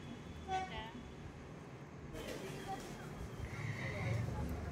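A passenger train pulling out, its low, steady rumble of wheels and carriages growing gradually louder, with a sustained horn-like tone rising near the end.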